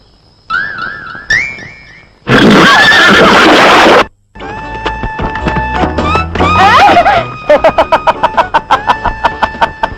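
A horse neighs loudly and close in a shrill whinny, mixed with a burst of loud noise and a film soundtrack, ending in a rapid run of rhythmic clip-clop-like hits.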